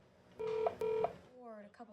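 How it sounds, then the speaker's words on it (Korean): A telephone being dialed, two clear steady keypad tones in quick succession, faint and close, followed by a brief voice. "어린 동생을 맡긴 사촌 애설에게 전화를 걸어봅니다"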